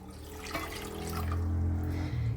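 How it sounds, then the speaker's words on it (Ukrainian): Water pours steadily from a small jar into a saucepan, half a litre in one continuous, close, moderately quiet stream that swells slightly as it fills. "Вливаємо, я ось баночкою виміряю, пів літра води."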